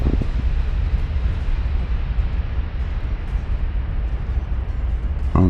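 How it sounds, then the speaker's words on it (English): Torpedo hits landing on warships in the naval game Ultimate Admiral: Dreadnoughts, heard as a loud, continuous low rumble of explosions and churning water that holds steady throughout, with a sharper burst near the end and no voices. "Hey, we did get a torpedo hit. Oh, and another one."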